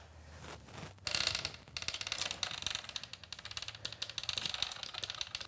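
A bicycle drivetrain on a road/gravel bike being built ticks and ratchets as the gears are shifted, a rapid run of close, crisp mechanical clicks after a short burst, with no talking.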